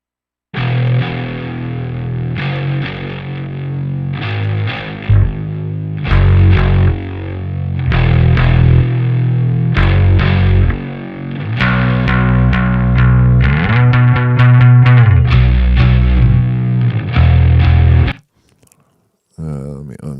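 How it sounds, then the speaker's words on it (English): Soloed distortion bass tracks from a song mix play heavy, fuzzy, saturated bass lines with chorus-like effects, moving through several sections before cutting off abruptly near the end. "I think that's a bass and not a baritone. It says that it's distortion bass."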